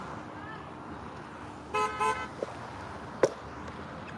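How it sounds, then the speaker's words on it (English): Car horns in street traffic give a couple of short honks followed by a single brief toot, moderately close over a low hum of background noise. "No more honking"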